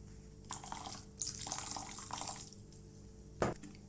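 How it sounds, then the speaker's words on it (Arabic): Water is poured into a bowl while making a sweet chocolate-coated marshmallow dessert, with splashing bursts that come and go over a few seconds and a short louder splash near the end. "نضيف ربع كاسة مية"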